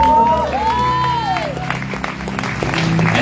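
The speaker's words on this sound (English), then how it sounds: "let's give a round of applause." A church congregation at a Mother's Day Sunday service claps in sustained applause with some cheering, while a sung or held voice rises above the crowd.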